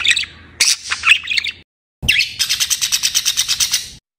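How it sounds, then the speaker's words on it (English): Budgie screeching up close: loud harsh chirps and squawks in a short burst, a brief pause, then a rapid run of about a dozen repeated shrill calls. "screeching is more about long-term frustration."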